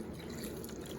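Beef broth pours steadily into a pot of short ribs for braising, with a continuous, close splashing trickle for about a second, no voices.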